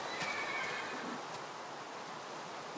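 A horse whinnying in Minecraft with the Mo'Creatures mod, a breathy neigh with a wavering tone near the start, then a steady noisy wash, fairly close and with no voices.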